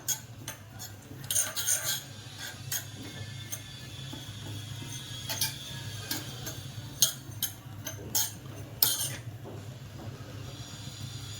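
A spoon scraping and clinking against a pan while dal is stirred and lightly dry-roasted for mixed pickle, irregular metallic ticks and taps spread across the clip over a low steady hum, fairly quiet and close.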